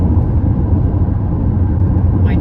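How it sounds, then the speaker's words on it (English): Low, steady road rumble heard from inside a moving Toyota Prius, a constant droning hum with no voices. "this car has the most road noise of about any car I've ever had"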